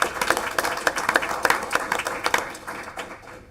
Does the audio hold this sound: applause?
yes